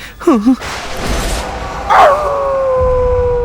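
A dog lets out a short, wavering whine-howl, then a longer rising howl that trails off into a drawn-out, steady tone.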